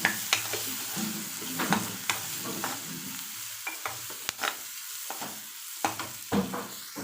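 Onion and spice mixture with salt and turmeric being stirred in a hot pan for a Malvani-style capsicum dish, with repeated scraping strokes over a steady soft sizzle and no talking.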